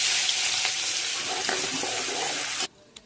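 Loud, crackling sizzle of mustard seeds, cumin, green chilli and garlic hitting hot oil fills most of the clip, then cuts out abruptly, leaving a quiet tap.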